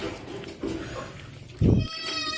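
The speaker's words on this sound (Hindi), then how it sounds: "चलो 2 भी बकरी के बच्चे दूध पी रहे।" Goat kids bleat at a farm while being bottle-fed milk, a short cluster of calls followed by one louder, closer bleat, with faint background voices and a thin whistling tone near the end.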